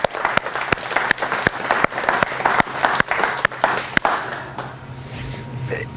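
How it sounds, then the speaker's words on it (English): A presentation audience applauds for a sales team: a room full of clapping with a few loud, distinct nearby claps in a regular rhythm, tapering off into quiet room noise near the end. "Let's give those guys a round of applause."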